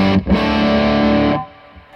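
Electric guitar through a Shipwreck overdrive pedal rings out as a thick, distorted sustained chord after a quick re-strike, holding loud and steady before cutting off into a faint tail.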